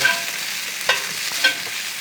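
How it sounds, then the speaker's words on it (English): Food browning in a cast iron pan sizzles steadily up close, with a few sharper scraping stirs of a utensil breaking through the continuous frying hiss. "Brown this up a little bit"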